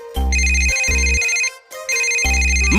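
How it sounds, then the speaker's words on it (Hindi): A cartoon telephone rings in short electronic bursts, three buzzing rings with high tones between them, loud and close with no voices over it. "किसका फोन आ रहा है?"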